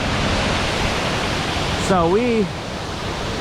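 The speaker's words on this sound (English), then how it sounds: "That's another big raging waterfall." A big raging waterfall on the Ricketts Glen Falls Trail in Pennsylvania gives a steady, loud, broadband roar that continues throughout, and a brief voice speaks over it near the middle.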